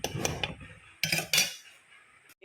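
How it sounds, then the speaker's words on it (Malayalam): A metal lid is set onto a pot of simmering freshwater vala fish curry gravy, giving a few close, ringing clanks and scrapes, then a short quiet settle. "ഇതൊന്ന് തിളച്ച് വരുന്നിടം വരെ നമുക്കിതൊന്ന് മൂടി വയ്ക്കാം"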